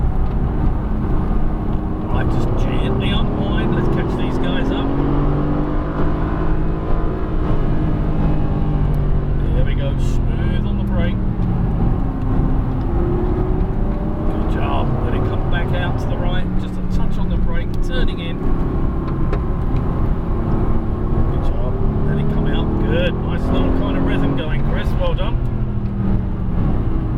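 Mercedes-AMG GT S driven on a race track, its engine a constant loud drone rising and falling in pitch through corners and acceleration, under steady instructor talk.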